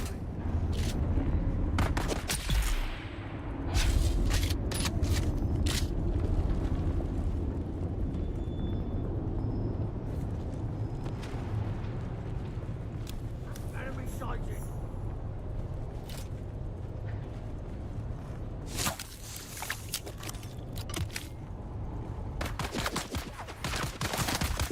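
Rapid gunfire from a weapon in a video game, bursts of sharp shots crowding the opening seconds and returning near the end over a steady low rumble of game ambience.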